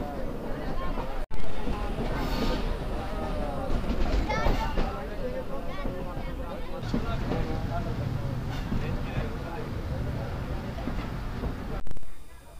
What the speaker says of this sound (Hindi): हमारी ट्रेन एंटर हो रही है लकी शाह सदर रेलवे स्टेशन पर